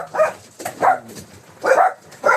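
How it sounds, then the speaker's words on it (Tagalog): A dog barks four times close by in short, sharp bursts spaced unevenly, each one loud and alone with no talk between them. "Beth, maingay aso."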